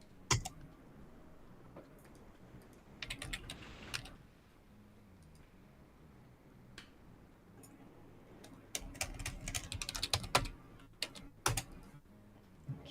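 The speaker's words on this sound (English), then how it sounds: "Keyboard ASMR." Rapid clicking keystrokes on a computer keyboard come in irregular bursts of typing, fairly close and clear, separated by quieter stretches of faint room hum.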